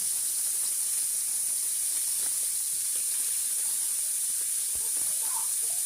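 Bacon pieces render down in a pan, giving a steady, dense hiss of fat sizzling close by, constant throughout with no talking.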